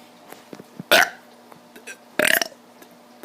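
A kid lets out two burps, a short croaky one and then a longer rattling one, close up with faint background noise between them.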